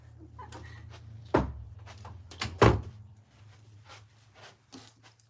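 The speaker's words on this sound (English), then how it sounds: "I'm just gonna close this door" An indoor door is swung shut, giving two solid thuds about a second apart, the second louder, over a steady low hum with faint rustling afterward.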